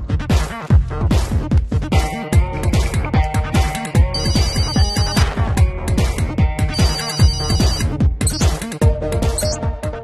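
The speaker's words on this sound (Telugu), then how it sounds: "ఫోన్ రింగ్ అవుతుంటే ఎక్కడేంటి?" A phone ringtone plays loudly in a Telugu film scene, a bright melodic pattern that repeats in steady cycles for the whole stretch with no speech over it.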